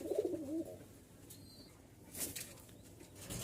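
A pair of Lotan pigeons coo softly in a short, wavering burst at the start, then fade into quiet background with a faint rustle of feathers later.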